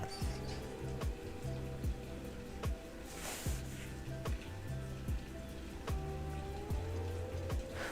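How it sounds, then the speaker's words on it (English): Rain falling outside, a soft steady patter of drops with faint clicks and a low hum, no talk. "Listen to that rain."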